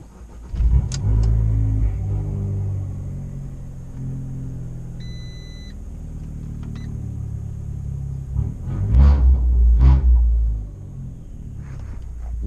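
A Fiat Abarth 695 with a Tributo Ferrari tune starts and idles with a steady low, rumbling engine note, then swells into a louder throaty rev about two thirds of the way through before settling back.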